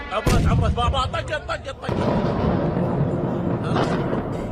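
A sudden loud boom near the start from a drone strike explosion, followed by a sustained rumbling roar, with a voice speaking over the first part.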